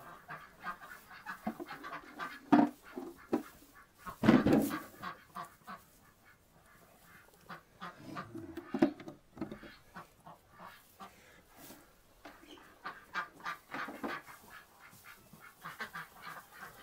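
Ducks in a coop during egg collection give scattered harsh honking quacks, a few louder calls standing out among softer grunts and rustling, close by, with occasional quiet human voices.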